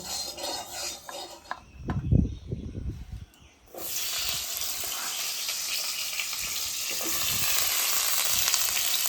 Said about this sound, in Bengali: তার জন্য আমি অল্প একটু তেল দিলাম। পটলটাকে ভেজে নামিয়ে নেব।